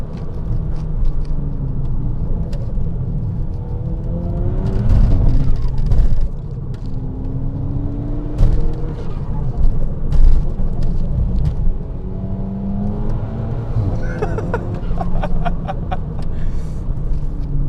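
A Mk5 VW GTI engine drones and rises and falls as it accelerates and slows through bends, with tire and road rumble underneath and no talking.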